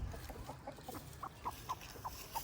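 A breeder hen of mixed parentage clucks in a series of five or six short, evenly spaced clucks, quiet and fairly close, with soft rustling beneath.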